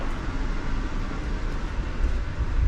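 A slow Amtrak train creeps along the rails, a steady low rumble and rolling hum heard from inside the carriage, with no distinct clacks.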